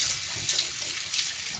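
Two cups of water pour steadily into a bowl during an Indian street-food cooking class, a close, continuous splashing gush with no talk over it.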